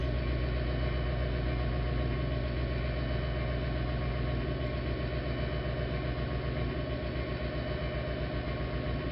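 An Amtrak locomotive sits idling in neutral in Train Simulator 2022, a steady low diesel rumble with a throbbing pulse that holds constant throughout, close and unbroken.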